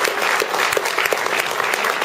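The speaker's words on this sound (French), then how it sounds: "Je crois qu'on peut applaudir encore une fois très chaleureusement" A medal ceremony crowd in Neuilly applauds warmly, dense continuous clapping from many hands filling the room with no break.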